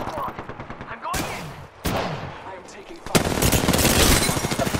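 Bursts of video game gunfire crackle up close, with rapid automatic volleys and sharp single shots that grow denser and louder toward the end, over excited talking.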